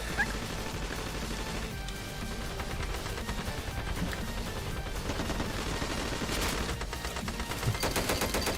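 Dense, continuous gunfire from a weak gun in the shooter game Ravenfield, a steady rattle of rapid shots mixed with distant battle noise and occasional crashes, with no gaps throughout.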